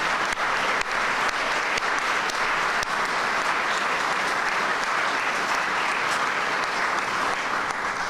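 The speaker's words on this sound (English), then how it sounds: "So can we give a final round of applause to our award recipients tonight?" A large audience at an awards reception gives sustained applause for the award recipients, a dense, even wash of clapping that holds steady for about eight seconds without a break.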